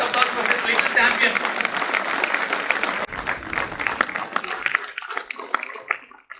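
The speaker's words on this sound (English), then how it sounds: "Please give a big round of applause for this little champion." An audience at a National Safety Day celebration claps for young prize winners, a dense round of applause that thins out and trails off into scattered claps.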